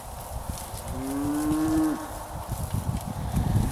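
A home-raised calf at a North Carolina steer sale gives a single drawn-out moo midway, moderately close, over a low background of shuffling and barn noise.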